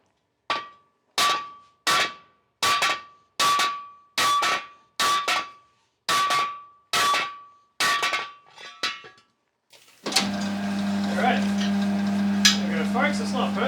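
A bent wheel rim on a trailer project bike is hammered straight with about a dozen sharp, evenly spaced metallic whacks, each ringing briefly, followed by steady engine or machine noise.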